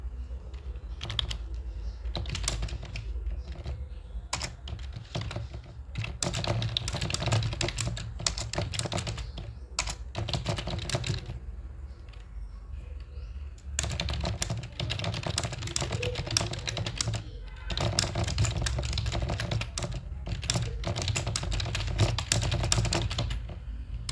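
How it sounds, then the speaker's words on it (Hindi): A physical keyboard hooked up to a mobile phone for Hindi steno typing practice, its keys clattering in fast, steady runs for about 24 seconds, broken only by brief pauses. "फिजिकल कीबोर्ड हमारा कनेक्ट है, तो जैसे मैं टाइप करूँगा"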